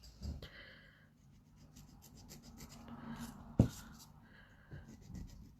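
Metal file taking sharp edges off a piece, heard as quiet rasping strokes and scraping with one sharp knock midway, close and faint with little else around.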